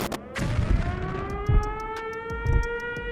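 Siren Head creature's wail: a loud, sustained siren tone climbs steadily in pitch, overlaid by heavy low thuds that repeat roughly every second.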